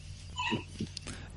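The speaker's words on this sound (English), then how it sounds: "Oh, that's my dog." A dog gives a couple of short, soft yips or whimpers close by, separated by brief pauses over a quiet background hum.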